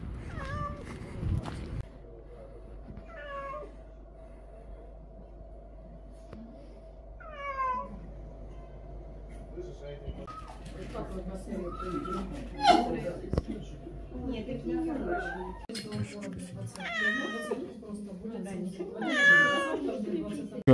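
A cat meows repeatedly at a veterinary clinic, several drawn-out plaintive cries spread across the scene, some faint and some louder, with people talking around it.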